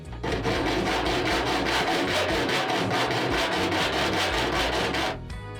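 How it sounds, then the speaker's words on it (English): Loud, continuous rasping of a scraper on sheet metal on the roof of a Renault Master van, in rapid back-and-forth strokes for about five seconds before it stops abruptly, with no talking. "to just scrape a little bit of metal, because I want to put hammerite paint here"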